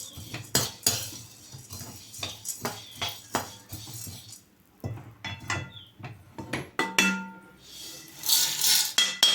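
Roasted idli powder is moved into another vessel with a metal spoon, giving a run of scraping and clinking strikes against the pot in uneven bursts, then a brief rising hiss near the end.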